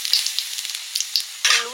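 Whole cumin seeds, a bay leaf and dried red chillies hit hot oil for aloo dum, crackling in a close, bright sizzle with small pops, then flaring louder near the end.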